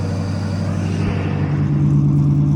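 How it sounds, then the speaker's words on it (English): A Mazda RX-7 FC with an LS V8 swap idles too high, a steady loud rumbling drone with a strong low hum that rises slightly and holds, heard up close with no talk. "it sounds good, but it's just idling way too high"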